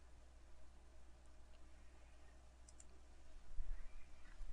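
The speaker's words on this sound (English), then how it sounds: "And then we'll left click on this edge and this edge" A computer mouse gives a few faint, sharp left clicks, sparse and close, over a quiet steady hiss with no talking.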